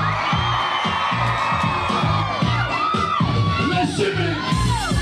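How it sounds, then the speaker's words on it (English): A crowd at a Relay For Life dance cheers, whoops and shouts continuously, loud and close, with individual yells rising over the dense roar. "Let me hear some noise from the crowd."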